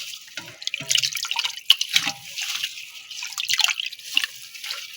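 Water splashes and sloshes in irregular bursts as beef is rinsed and swished around, with drips in between.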